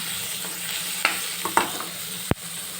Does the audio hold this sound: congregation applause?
no